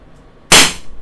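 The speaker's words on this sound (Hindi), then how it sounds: "ऊपर हम बीबीस फायर करेंगे, नीचे पैलेट्स फायर करेंगे।" A single sharp, loud shot from a Crosman SNR357 CO2 full-metal revolver firing a BB at a paper target, a sudden crack with a brief decaying tail, alone after a quiet lead-in.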